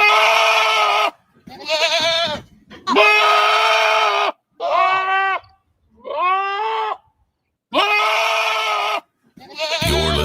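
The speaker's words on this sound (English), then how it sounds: "Okay, cue the goat." A goat sound effect cued on a late-night radio show: several loud, quavering bleats ring out one after another, each separated by a short silence.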